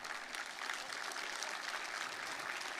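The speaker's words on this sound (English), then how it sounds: "Give Colton a little round of applause." An audience applauds steadily, a dense even wash of clapping lasting a few seconds without pause, moderately distant and somewhat faint.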